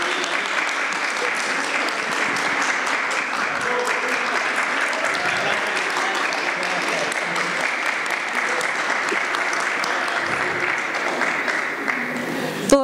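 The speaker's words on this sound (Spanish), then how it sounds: "Todos los aplausos y más para ti" Audience applause at a talk with an artist and curator, dense sustained clapping filling the room at steady loudness throughout, ending in a brief louder burst.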